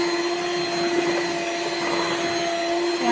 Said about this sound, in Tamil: கட்டிகள் இல்லாமல் நல்லா பீட் பண்ணிக்கணும்